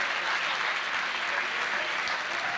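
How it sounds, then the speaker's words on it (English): A school district staff audience applauding 15-year service award recipients, a continuous wash of many hands clapping at steady volume, heard from within the room with no speech over it. "how about a round of applause for our 15-year service awards?"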